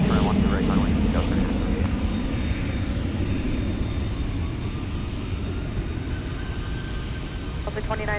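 Jet airliner engines roar steadily at Minneapolis–St. Paul airport during diverted departures, a loud, continuous, close rumble with faint voices in the background.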